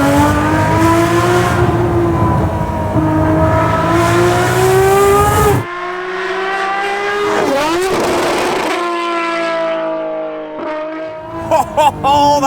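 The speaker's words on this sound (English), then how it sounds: "there was like a big crackle as I did a mega down change" Ferrari 599XX Talos XXT race-derived V12 revving hard through the gears, loud and close, with a sharp downshift and crackling, popping overrun bursts near the end.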